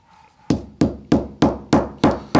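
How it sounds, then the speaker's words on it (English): Hammer blows on animal tendons being processed into sinew: six sharp, evenly spaced strikes, each a loud close thud that fades quickly, after a brief quiet start. "I'll keep hammering all the way up both of these tendons"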